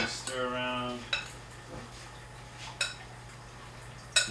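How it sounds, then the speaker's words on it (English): A utensil stirs oil around in a cooking pan, making a few sharp metallic clinks against the pan over a quiet background, with a brief voice near the start. "Give that a nice stir around."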